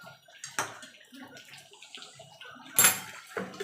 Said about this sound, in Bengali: এবার আমি প্রেসার কুকারে ঢেলে দেবো।